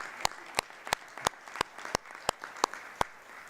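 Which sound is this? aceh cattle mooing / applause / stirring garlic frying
applause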